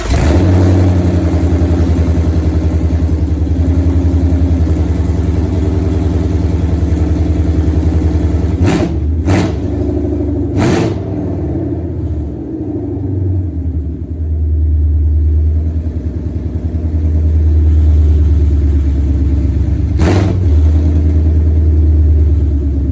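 A Ford Mustang S550 engine runs with open headers, holding a loud, deep, rumbling idle close by for over twenty seconds, with a few short sharp bangs and a brief dip in the middle.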